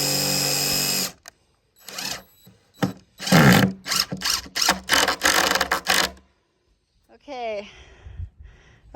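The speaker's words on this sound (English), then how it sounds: "You definitely want to use an impact if you're going to be messing with this stuff" An impact driver drives screws into larch boards while building a raised garden bed, giving several loud bursts of whirring and hammering with short pauses between them, followed by a faint rising whine near the end.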